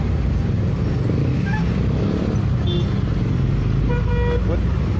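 Congested road traffic rumbles close by, with engines idling and creeping, a truck among them, and a few short horn toots cutting through; people talk over the steady traffic noise.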